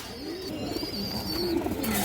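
Two female pigeons at a pigeon market, with soft, close cooing calls repeating steadily over a constant background hum.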